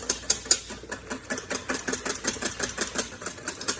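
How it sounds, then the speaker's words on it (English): A whisk beats homemade yogurt in an Instant Pot, giving quick, regular clicking strokes up close that keep a steady rhythm throughout. "So I'm going to whisk this."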